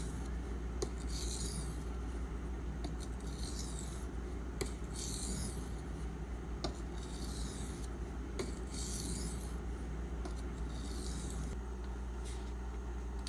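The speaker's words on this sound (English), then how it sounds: "With the oil-water mixture, there's less friction. I feel the stone biting the steel" A steel knife blade is stroked across an oiled Schrade Old Timer sharpening stone, giving rhythmic rasping passes about every two seconds over a steady low background hum.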